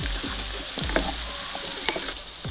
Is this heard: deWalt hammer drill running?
no